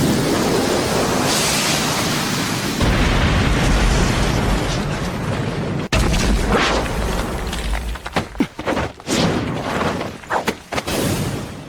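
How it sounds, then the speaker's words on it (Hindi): A fireball jutsu explosion from the Naruto Shippuden anime, a loud sustained roaring whoosh of fire that surges partway through, then breaks into crackling bursts and pops as it fades. "Fire style. Fireball jutsu."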